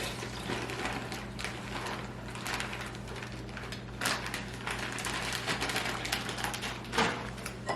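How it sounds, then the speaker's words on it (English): Frozen blueberries pour from a cut bag into a colander, making a dense, continuous rattling clatter with a few sharper bursts and no voices. "I'm going to cut the bag and empty them right into this colander."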